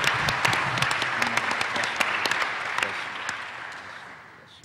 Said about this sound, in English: please give everyone in all of our new extended family a big round of applause